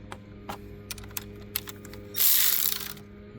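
An M12 cordless power ratchet works on 10mm bolts during spark plug replacement on a 2016 Nissan Murano, giving light mechanical clicks and then a short whirring buzz of the motor spinning.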